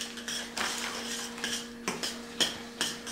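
Food stirred with cutlery in a dish, a string of close, bright metallic clinks and scrapes in an uneven rhythm, several sharp taps standing out over a steady scraping background.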